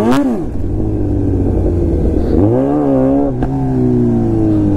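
A Kawasaki Z900 motorcycle's rear tyre spins as the bike skids, its engine revving loud and close with rising and falling pitch sweeps and a steady mechanical drone underneath.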